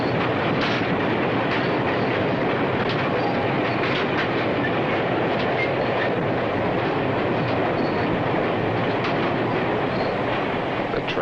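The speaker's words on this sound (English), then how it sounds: "The train has a single statement to make." A big train rolls along the rails in a loud, dense, continuous rumble with a steady clickety-clack rhythm running throughout, close by and without voices.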